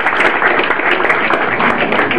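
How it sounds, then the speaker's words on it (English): Comedy club audience at the Dallas Improv applauding, a dense, steady wash of clapping that stays loud and even for the whole couple of seconds. "Clap it up for me."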